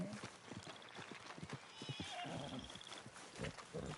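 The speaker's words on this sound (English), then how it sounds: "let me show you the horse" Horse from Red Dead Redemption 2 neighing and whinnying, with clip-clop hoofbeats repeating through the moment, fairly close with a faint voice underneath.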